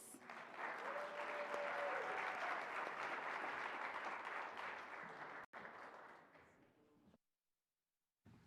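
An audience applauds to welcome a keynote speaker at an MLK celebration event: a steady, full round of clapping that swells, holds for several seconds, then tapers off and falls silent.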